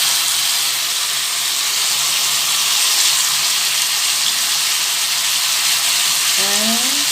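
Turmeric and cumin powder fry in a pan for alur dom, giving a loud, steady sizzle close up with a brief rising tonal sound at the end.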